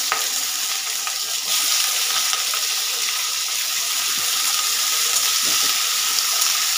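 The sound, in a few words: green chillies and potatoes frying in oil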